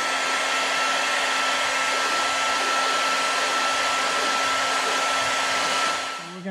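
A heat gun or hair dryer runs continuously to warm the adhesive on a Corvette C7 bracket, a steady loud whooshing blow with a constant whine that eases off at the very end.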